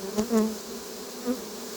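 Honeybees buzz around an open hive of a calm colony, a close, steady droning hum with a few louder passes as individual bees fly near.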